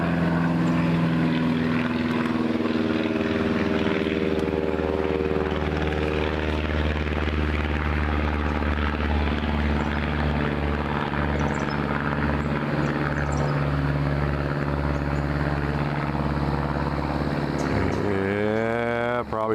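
DNR aircraft fly over a Manistee National Forest campsite, a steady propeller engine drone holding loud and close for the whole stretch, with the pitch shifting near the end as it passes.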